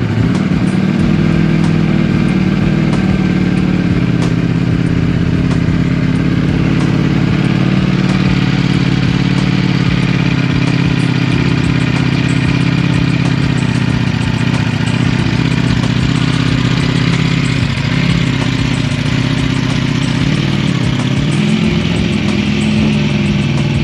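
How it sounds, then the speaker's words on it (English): A motorcycle engine idling continuously as the bike is ridden in first gear up into the bed of a pickup truck, a loud, steady, close rumble throughout with no talking. "Put in first gear and just feather the clutch as you walk up next to it."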